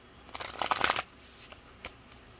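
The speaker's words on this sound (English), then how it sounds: "Let's get one more shuffle." A quick riffle of playing cards being shuffled, a dense fluttering burst lasting under a second, followed by a few soft taps.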